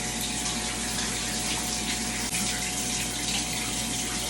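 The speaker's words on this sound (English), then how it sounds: "rinse your hair with lukewarm water and make sure that you can rinse off any debris that may be stuck" Water from a tap runs in a steady, even rush while hair is rinsed with lukewarm water, close and continuous, with no talking.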